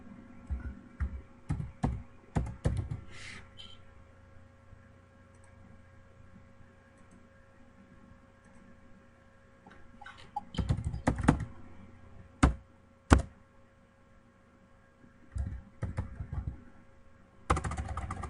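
Slow, hesitant typing on a computer keyboard, scattered clusters of sharp clicks and clacks separated by quiet gaps, close and moderately loud, with no talking.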